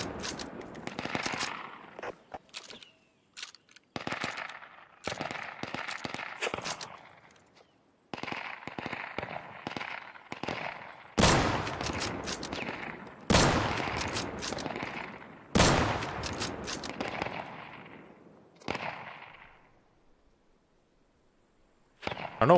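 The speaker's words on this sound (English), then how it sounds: "Oh my god, the strafing." Strafing gunfire rips through a Deadside shooter match in loud, rapid bursts of automatic fire, broken by short pauses across the whole stretch.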